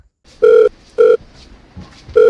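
A telephone rings with three loud, clean electronic tone bursts separated by short pauses, close and clear against a quiet background with no voices.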